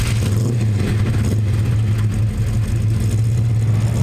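A Holden VN Group A car's engine drones loudly and steadily from close by while driving, a low, throbbing rumble with slight swells and no talk.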